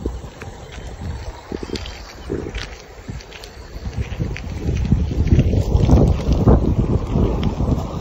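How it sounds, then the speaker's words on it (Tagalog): Cold wind gusts rumble across an outdoor microphone on a cassava farm in Japan, swelling louder toward the middle and end with a steady rushing undertone. "Kabugnaw sa hangin"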